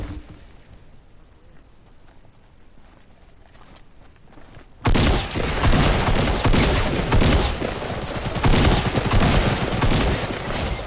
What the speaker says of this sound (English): Shots east.